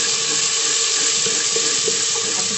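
Chopped tomatoes and green chillies hitting hot oil with fried garlic give a steady, loud hiss and sizzle throughout, with no talking.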